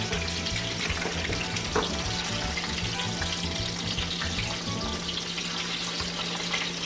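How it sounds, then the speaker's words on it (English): Breaded chicken for chicken parm fries in hot oil with a loud, steady, close sizzle that crackles continuously throughout, with no voices. "our oil is up to heat. It's time to start cooking our chicken. It's sizzling."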